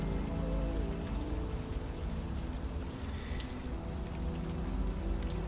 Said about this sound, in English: the environmental audio effects, like the rain ambiance in this scene